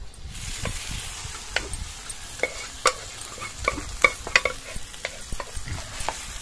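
Moong dal being stirred into a frying mixture in a hot pan: a steady sizzle with repeated scraping and clinking strokes of a spoon, close and fairly loud, no voices.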